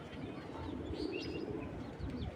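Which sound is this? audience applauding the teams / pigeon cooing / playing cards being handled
pigeon cooing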